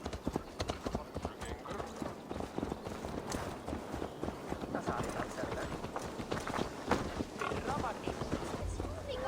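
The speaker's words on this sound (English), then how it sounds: "Let's return the horse." Rapid, steady clip-clop of a video game horse's hooves on a hard surface continues throughout at a trotting rhythm, with a voice briefly speaking over it.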